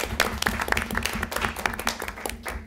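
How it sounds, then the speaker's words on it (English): Applause at a special education task force meeting: a modest group claps in quick, uneven patters, fairly soft and roomy, with no talk over it. "applause."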